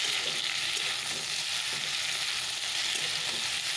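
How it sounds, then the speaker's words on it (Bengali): Potatoes and cauliflower fry in a pan with a steady, dense sizzle and occasional stirring scrapes, close and continuous throughout. "এখানে আলু ফুলকপি ভাজতে বসিয়ে দিলাম"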